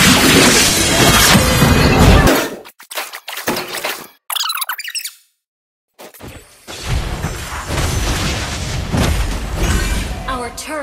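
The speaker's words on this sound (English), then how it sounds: "Our turret has been destroyed" Loud crashes and explosive bursts fill a Mobile Legends: Bang Bang match as a turret is destroyed, with dense smashing noise, then abrupt drops into near silence before the chaotic din returns.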